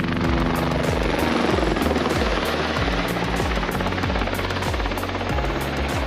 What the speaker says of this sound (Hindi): इस हेलीकॉप्टर को आता जाता देख